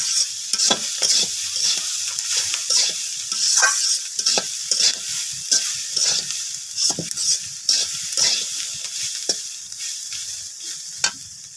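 Vegetable bhaji with turmeric frying in a pan: a constant bright sizzle runs throughout, broken by a rhythmic series of sharp stirring scrapes and taps of a utensil against the pan.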